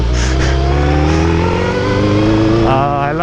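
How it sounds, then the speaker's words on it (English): Motorcycle engine revving hard during a small wheelie, a loud, close, sustained roar with pitch shifting as the throttle opens and settles, with wind rush over it. "Do a little wheelie."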